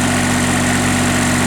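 An engine idles steadily just after a cold start on a cool day, a loud, close, continuous rumble with a constant low hum and vibration and no talk.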